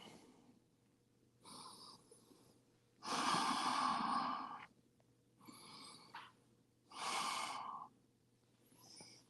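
Slow, deep breaths during a yoga practice: about five drawn-out inhales and exhales, each lasting a second or more and separated by quiet pauses, close and soft with no speech.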